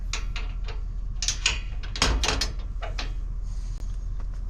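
Cabin door on an off-grid tiny house build being lifted up and pinned, a series of loud close clanks and rattling metal knocks with a heavier scrape in the middle, then quieter settling noise, no talking.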